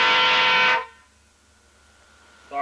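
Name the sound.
air horns on a car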